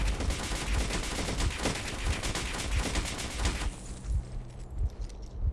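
Gunfire in the S.T.A.L.K.E.R. Clear Sky video game, a dense rapid burst of shots filling the first few seconds, then thinning to sporadic, quieter reports with no talk.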